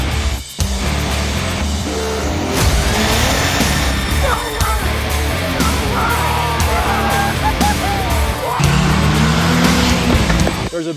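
Diesel trucks with Cummins engines rev and roar at a dirt drag racing event in the mountains, loud and continuous, with crowd noise and shouting mixed in.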